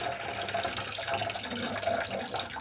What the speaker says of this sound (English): So this just lifts out, and you're going to get the water drained out.